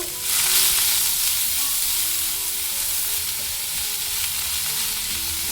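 Finely chopped onions are dropped into hot oil in a pan, bursting into a loud, steady sizzle that holds throughout and eases off slightly after the first second, with no talking.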